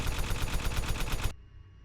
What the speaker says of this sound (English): so I added that machine gun sound